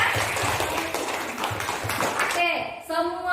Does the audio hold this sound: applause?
yes